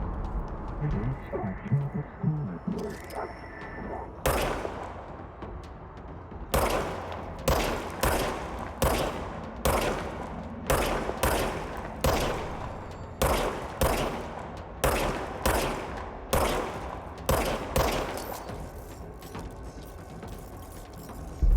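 Rapid gunfire from the player's automatic-reloading gun in the video game Control, sharp bursts repeating in quick clusters after a quieter start, with mechanical clicks between volleys.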